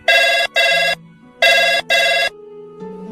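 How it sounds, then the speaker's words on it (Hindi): A telephone rings twice, each ring a pair of loud, bright electronic trills with brief pauses between, followed by quiet background hum. "तभी फोन की घंटी बजी"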